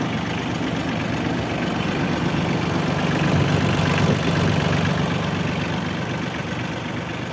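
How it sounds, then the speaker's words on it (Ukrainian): A small Mitsubishi tractor engine idling steadily and close by, a continuous low rumble with a mechanical hum that holds even throughout, with no voices. "Двигунчик Mitsubishi."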